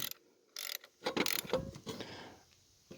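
A ratchet snugs a bolt on a truck alternator with a few short bursts of close, clicking strokes separated by brief pauses, quiet overall.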